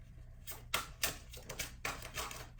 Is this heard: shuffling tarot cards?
yes